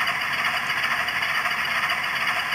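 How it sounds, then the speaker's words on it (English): Model locomotive sound decoder in an Atlas CSX NRE Genset playing an Alco-style diesel engine loop, a steady droning rumble with a buzzy, rattling character running continuously without pause. "it basically sounds like an Alco engine, as you can hear, which is actually not the actual Genset sound"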